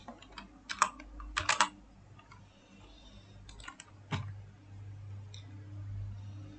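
Someone types an IP address on a computer keyboard, with short bursts of crisp key clicks separated by pauses, close and fairly quiet over a low steady hum, no talking.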